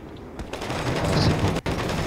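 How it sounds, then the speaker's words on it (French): Burst of gunfire in a video game roleplay, a dense rattle of overlapping shots lasting about two seconds with a brief gap near the end, loud and close-sounding, no talk over it. "Qui c'est qui tire?"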